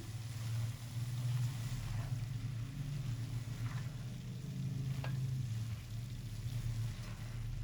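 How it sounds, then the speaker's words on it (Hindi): Grated carrots roast in ghee in a pan for gajar ka halwa over moderate heat, giving a continuous soft sizzle over a low rumble, with a few light utensil clicks. "अब घी के साथ भुनाई करेंगे गाजर की।"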